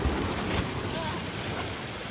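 Sea waves washing at a beach in Luna, La Union, a wind-buffeted wash of surf heard close by with heavy wind noise on the microphone.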